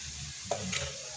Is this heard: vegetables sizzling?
yes